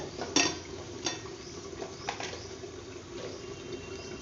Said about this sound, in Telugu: వాటర్ వేసి ఒకసారి కలుపుకొని